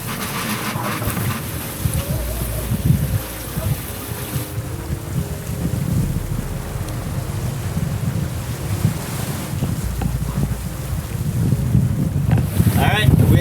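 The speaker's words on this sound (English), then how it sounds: "the wind is building as it always does out here" Strong wind roars across the microphone while sailing, with rushing water and hull noise beneath, steady and loud, while a voice talks faintly at times.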